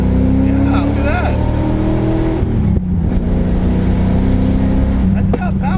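Modified C4 Corvette Z51 at full throttle in second gear, engine note rising loud and close, a brief dip at a shift, then a steady climbing roar, with voices talking over it.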